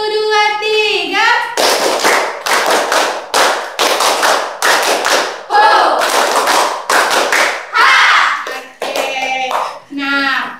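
A classroom of children runs through a sequence of chant clapping patterns, many rhythmic bursts of loud group claps in quick succession, interleaved with chanted voices and ending on more singing.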